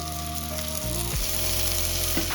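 Tomato and green chili hit hot oil with browned onions in a pan for a Bengali tilapia curry, giving a steady, close, loud sizzle that flares up as they go in, with no talk.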